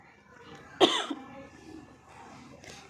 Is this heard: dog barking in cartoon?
no